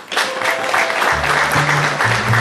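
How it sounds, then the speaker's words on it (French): Congregation applause inside a church in Bafou during a bishop's parish visit, a sustained burst of clapping with a sung or held tone rising beneath it partway through. "Et j'applaudis pour vous."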